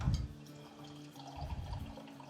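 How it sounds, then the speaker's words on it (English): Water runs from a tap into an empty metal soup can that held cream of chicken soup, a close, steady splashing stream with gurgling that swells again toward the end. "I'm just gonna take one of those cans and fill it up with water."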